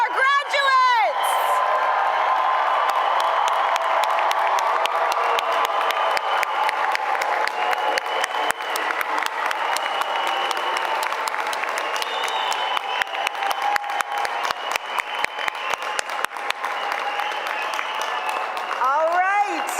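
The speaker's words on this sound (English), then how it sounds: "Let's get another round of applause for our graduates!" A large audience at a university commencement ceremony gives graduates a sustained round of applause with scattered cheers and whoops, dense continuous clapping throughout and a voice speaking briefly at the start and end.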